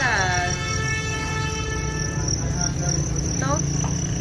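Field crickets in a breeding pen chirp steadily in a dense, continuous trill, close and loud, while a voice talks over them and faint whistling tones sweep across.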